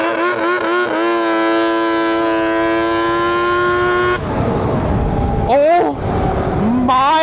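A Kawasaki Bayou ATV with a swapped-in 2-stroke engine and a new clutch setup screams loud and close, holding a steady high-pitched whine near peak RPM before dropping into rough roaring bursts and quick rev changes, with a voice shouting.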